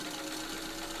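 A powerful home sewing machine with a potted motor runs steadily, giving an even, loud mechanical whir with a constant hum, close by and without talk.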